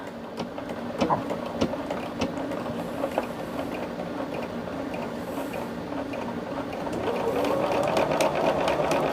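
Sewing machine stitching along a line on a cotton quilt, a steady rapid mechanical whir with light clicks running throughout, speeding up slightly toward the end, close and alone without talk.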